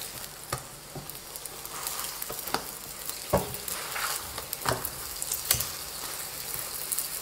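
Dough fries in oil in a pan with a loud, steady sizzle, broken by scattered sharp crackles and pops throughout.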